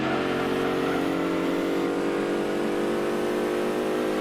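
A Beetle rally car in Gran Turismo 2 revs hard, its engine holding a loud, steady, high-pitched whine for a few seconds with no one talking over it.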